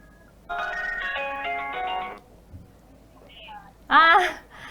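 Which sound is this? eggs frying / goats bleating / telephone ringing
telephone ringing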